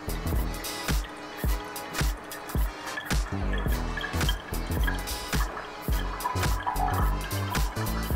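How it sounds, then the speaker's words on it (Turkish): Aqua regia solution dripping and trickling as it is filtered off the sludge from processed ceramic computer processors, with irregular close wet drips and splashes over a steady liquid patter. "Şimdi bunu süzme işlemini yapıyoruz."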